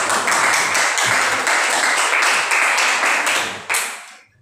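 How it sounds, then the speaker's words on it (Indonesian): Classroom applause for a presenting student group: a dense burst of many hands clapping together, loud and steady for about four seconds before tapering off. "Aplaus untuk kelompok"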